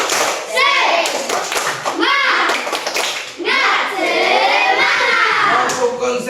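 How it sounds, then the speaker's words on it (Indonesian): A class of children in a school activity session does the 'tepuk semangat' chant, with bursts of group clapping in rhythmic clusters between loud chanted voices, close and lively. "Sekarang mari bersama kita tepuk semangat, tepuk semangat."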